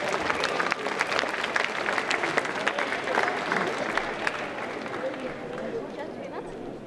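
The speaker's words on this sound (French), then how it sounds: "On peut applaudir encore bien fort la candidate numéro 11." A crowd at a cosplay contest during a Japan pop culture show in Troyes gives a contestant sustained, dense applause that gradually eases off, mixed with crowd chatter.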